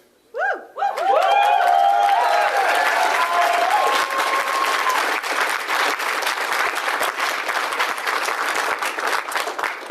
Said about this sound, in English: we can get a round of applause to every single candidate that ran for us